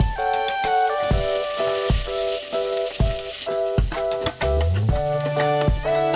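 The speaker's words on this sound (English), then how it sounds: "meanwhile your onion and garlic is being roasted" Garlic and onions roasting in ghee with a bright, continuous sizzle, partly masked by louder rhythmic background music with plucked notes and beats.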